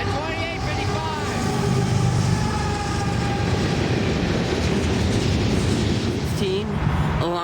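Passing train with a rebuilt F40 locomotive, number 6414, in a Canada 150 scheme: a loud, steady rumble and rolling wheel clatter fill the whole stretch, with brief tonal squeals and talk mixed in.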